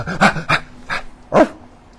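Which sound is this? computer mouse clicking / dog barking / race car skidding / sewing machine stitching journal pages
dog barking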